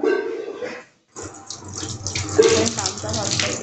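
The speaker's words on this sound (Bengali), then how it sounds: "দাঁড়া হাতটা ধুয়ে নিই, যেহেতু হাতে আমার নোংরা" Water running from a kitchen tap as hands are washed after cooking, a steady close splashing flow with a short pause near the start and a voice speaking over it.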